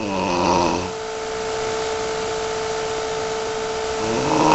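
Light snoring from a person with mild habitual snoring. It comes up close as a steady, droning breath with a raspy, buzzing texture that runs continuously for several seconds, with no one talking.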